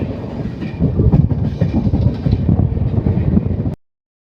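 The Nagercoil Express passenger train in India rumbles steadily along the rails near Chengalpattu Junction, close and loud, with rhythmic clatter from the wheels until the sound cuts off abruptly near the end.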